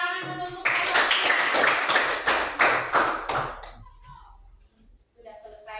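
A classroom of students clapping together for a group after a discussion, rhythmic bursts of claps close by that fade out, followed by a voice speaking.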